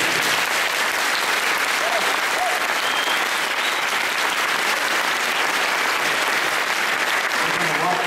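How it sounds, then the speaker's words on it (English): An audience gives sustained, even applause for Jacque Fresco at a lecture, a continuous close wash of clapping lasting several seconds without pause. "please give an applause to Mr. Fresco"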